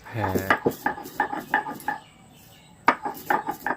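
Whole roasted spices being crushed on a flat grinding stone (shil-nora) for chili pickle: a run of sharp, close stone knocks and scrapes in an irregular rhythm, with a short pause midway.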